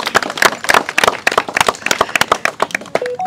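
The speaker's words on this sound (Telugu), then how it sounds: "గట్టి చప్పట్లు" A crowd at a village auction of desi Kuchi Patalia rice claps loudly and steadily, dense overlapping hand claps that stay close and strong throughout, with a brief tonal sound near the end.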